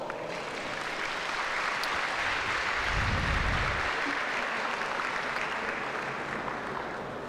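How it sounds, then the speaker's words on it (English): An audience at a senior pro archery shootdown applauds an archer, a steady wash of clapping with a brief low rumble partway through. "Let's give him a round of applause."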